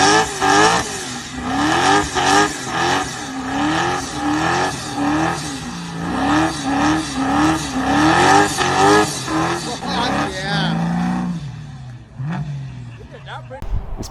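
A boosted 1981 Camaro Z28 accelerates hard and close, its engine revving in rising, repeated surges with tire squeal before easing off to a lower idle-like drone near the end.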